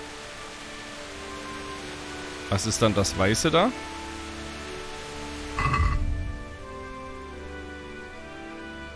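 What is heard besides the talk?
rain in the video game Kingdom Come Deliverance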